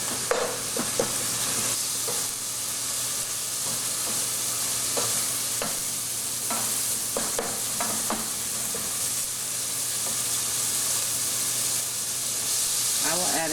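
Lean bison meat frying in olive oil in a pan, a steady broadband sizzle and hiss running throughout with occasional clicks of stirring.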